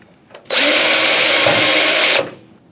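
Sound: drill boring hole in ballast compartment cover

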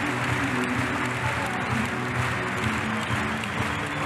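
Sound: audience applauding gymnast at Cottbus competition

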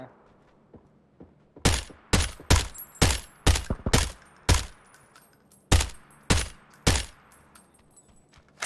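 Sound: gunfire in the video game PUBG

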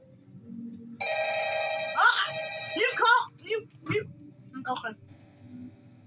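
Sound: phone ringing in video game Ultimate Custom Night

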